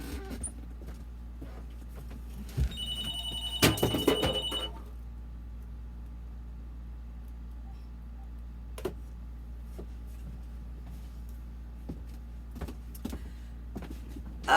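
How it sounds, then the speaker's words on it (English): A small office telephone rings in one short burst of trilling bell tones early on. The rest is a quiet room with a low hum and a few scattered ticks. "that's my little office phone"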